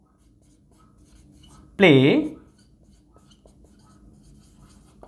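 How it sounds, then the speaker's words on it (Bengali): A teacher writes an example sentence on a board in a children's English class, with faint, light strokes and taps around a single short spoken word. "আমি একটু লিখি এখানে"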